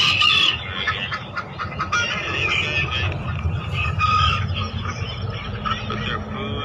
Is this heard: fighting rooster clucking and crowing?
yes